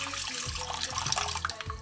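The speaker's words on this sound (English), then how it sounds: "Well, it's going everywhere, the water," Water splashes and pours into a pot holding a piece of silverside corned beef, a quiet, continuous gurgling wash with a few small knocks, close by and with no talking.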